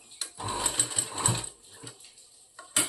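A sewing machine stitches a boat neck blouse, with brief bursts of mechanical running and clicking that start and stop, close and moderately loud, with quiet pauses between them.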